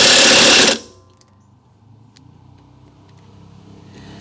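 An impact wrench hammers in one loud, dense burst on a bolted-down part of a 1959 Dodge Coronet, then cuts off abruptly, leaving quiet shop ambience with a low hum.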